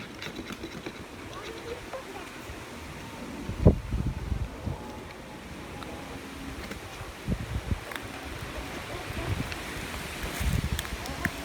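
Gusty wind from a cold front roars and buffets the microphone, with occasional thumps and bursts rising over a constant low rumble outdoors.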